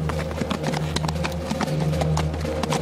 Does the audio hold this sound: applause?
no